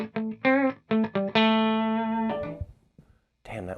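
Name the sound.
guitar through Boss DD3-T delay pedal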